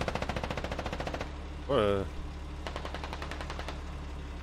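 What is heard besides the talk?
gunfire in the video game Squad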